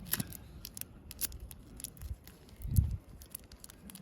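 A strip of adhesive tape is cut or torn while a hand-warmer trigger box is assembled, giving a few faint, brief snips and crinkles close by in a quiet room.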